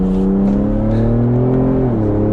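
2020 Ford F-150 Raptor pickup accelerating on the road, a loud, steady low engine drone rising in pitch from inside the cab, then dropping briefly at a gear shift.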